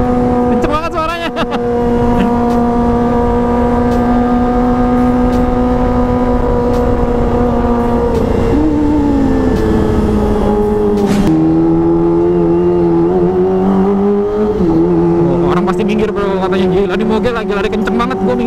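Kawasaki ZX25R motorcycle with a Pro Speed full-system funnel-style exhaust screams loudly and continuously while riding, its high-pitched whine holding steady then dipping and rising with throttle changes, with a rider talking over it.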